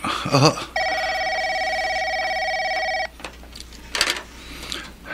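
A telephone rings indoors in a loud, steady electronic trill lasting a few seconds, then stops, leaving brief rustling and a voice.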